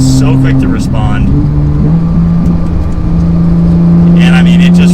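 Porsche 911 GT3 engine and exhaust under braking and downshifting, a steady loud engine drone with a brief rise and fall in pitch, heard from inside the car.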